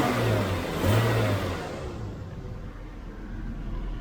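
A BMW 328i E36 with an inline-six engine revs up, a loud, close engine roar that swells and then settles into a steady lower rumble.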